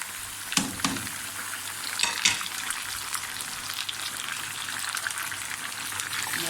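Tomatoes sizzle and fry in a chicken karahi, a dense, steady hiss with a few sharp crackles and spoon clatters near the start, close and moderately loud with no talking.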